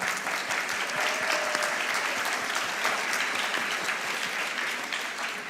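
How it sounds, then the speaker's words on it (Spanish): Audience at a public debate on Bad Bunny and Puerto Rican language bursts into sustained, dense applause, a steady crackling wash of many hands clapping throughout. "Un aplauso para él."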